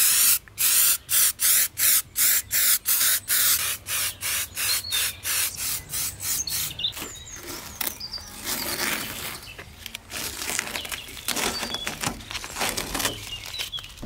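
Aerosol filler primer sprayed onto old car bodywork, a rapid series of short hissing bursts at first, then longer continuous spray passes, close and fairly loud with no voices.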